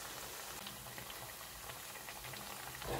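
Parippu vada, Kerala dal fritters, bubble in hot oil with a dense, even crackling fizz, close and continuous without pause.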